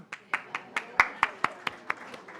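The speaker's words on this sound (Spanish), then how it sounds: "Démele un aplauso." A short burst of steady, evenly spaced hand claps, about a dozen, fairly close, like a small church audience clapping in unison.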